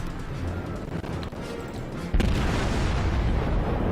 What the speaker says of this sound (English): Firing a broadside.